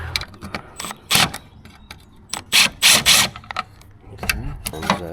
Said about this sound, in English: Remove these 4 screws.